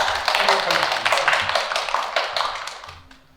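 A small round-table audience at an art exhibition claps for a critic, a few seconds of close, fairly loud clapping that thins out and fades toward the end.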